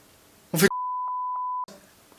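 A single steady censor beep, a pure mid-pitched tone lasting about a second, cutting in abruptly after a brief burst of voice.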